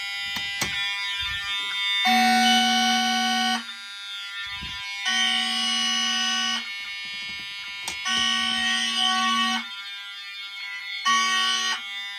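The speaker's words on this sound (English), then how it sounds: "I'm gonna activate the Simplex pulse station, which is probably gonna activate everything" A Simplex pulse station fire alarm system activated, sounding loud harsh electronic horn blasts in long bursts separated by short gaps, with occasional clicks between them.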